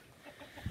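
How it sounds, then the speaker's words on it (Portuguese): Chickens in a farmyard, faint and soft, with a few low clucks close to the end of a brief moment. "As galinhas tá tudo ali em cima comendo ali, ó."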